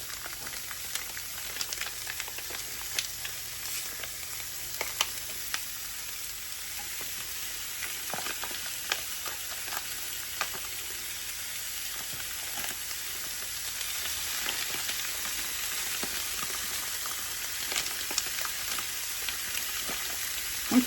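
One pound of ground beef with a generous heap of onions fries in a pan, giving a steady crackling sizzle with dense pops and spatters throughout, alone and close.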